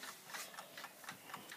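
A 1929 Waterbury clock ticks steadily indoors, a quick regular tick-tock of soft, close mechanical clicks against a faint room hiss, with no voices.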